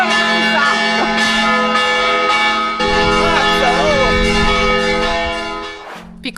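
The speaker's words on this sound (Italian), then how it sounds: "suonano davvero le campane" Church bells ring out loudly at midday in Sicily with a sustained, layered metallic clang and lingering overtones, while voices talk faintly underneath.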